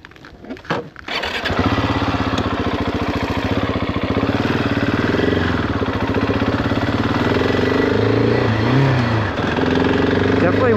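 A GasGas ES 700 off-road motorcycle engine starts with a few sputters, then settles into a loud, steady close-up thrum that rises and falls with throttle as the bike rolls off, with wind buffeting on the rider's mic.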